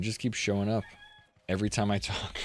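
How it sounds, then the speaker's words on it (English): A rooster crows outside an open window, a brief tonal call that rises between stretches of close talking. "there's a rooster outside, my landlord's rooster. He just loves to yell."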